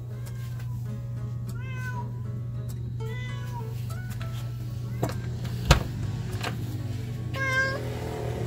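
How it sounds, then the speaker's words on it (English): A cat meows several times, short plaintive calls close by over a low steady hum, with a brief knock partway through. "Let's see if there's a mad cat."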